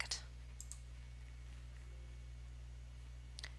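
A computer mouse click on a software Connect button: a sharp, faint click near the start, then a couple of softer clicks near the end, alone over a quiet room hum.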